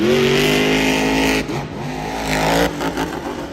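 Monster truck engine roaring loud and close on a Jacksonville stadium dirt track, revving hard in a sustained rising whine that dips and surges again as the truck runs the course.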